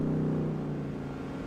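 A car engine in the racing video game Gran Turismo 4 gives off a steady, buzzing drone like angry bees, fairly quiet and easing off slightly over a brief moment.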